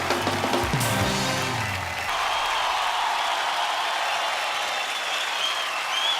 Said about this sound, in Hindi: एक बार जोरदार तालियां हो जाए पूरे दिल्ली वासियों के लिए।